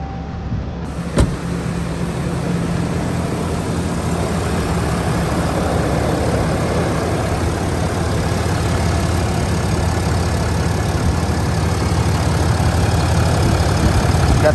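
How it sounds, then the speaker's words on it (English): A steady, loud 2021 Ram 2500 pickup truck engine with a Banks Ram Air intake idles continuously with a low rumbling hum, after a brief click at the start. "All right, truck started up."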